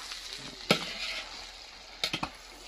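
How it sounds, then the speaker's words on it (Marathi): Poha gets stirred in a pan with a faint, soft sizzle, broken by a few sharp scrapes of the spoon against the metal, one near the start and a quick cluster of three near the end. "आणि अजूनही हलवते"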